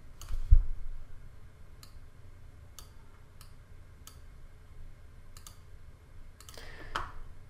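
Sharp, faint clicks of a computer mouse ring out one at a time at irregular intervals as a pen-tool selection is traced, isolated and quiet against a low room hum.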